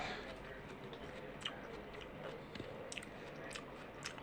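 Someone bites and chews a crunchy yellow root crop similar to jicama, with close, faint crisp crunches and soft chewing sounds recurring every second or so.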